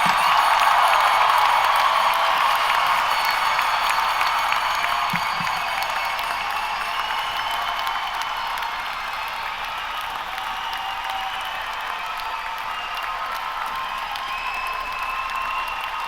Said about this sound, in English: please give a round of applause to the ones who made this possible